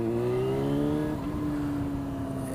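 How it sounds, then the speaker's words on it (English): A motorcycle engine pulls away under a gentle roll of the throttle, a steady droning hum that climbs slightly in pitch and then levels off, close and continuous with no talk. "rolling the throttle just a little bit, get the bike going"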